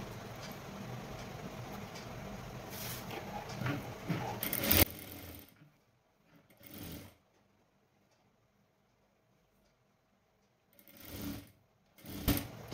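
A sewing machine stitches around a lined blouse in quick bursts, a loud rapid mechanical chatter at first, then short separate runs with quiet pauses between them.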